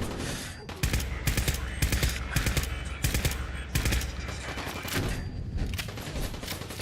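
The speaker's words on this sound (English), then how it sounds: "Combat rifle." Fallout 4 combat rifle fire comes in loud, rapid bursts of close shots for several seconds, then thins out toward the end.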